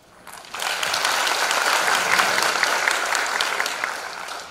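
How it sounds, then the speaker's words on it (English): A conference audience at a PyCon Taiwan 2016 keynote breaks into applause, a dense steady roar of many hands clapping that swells quickly and holds for several seconds before tapering. "let's give her a big applause"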